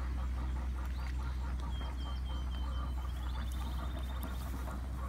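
Ducks quacking in a small enclosure where they were moved overnight, the calls faint and intermittent over a steady low hum, with a few thin higher calls drifting through.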